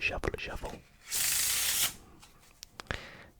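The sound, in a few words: shuffling playing cards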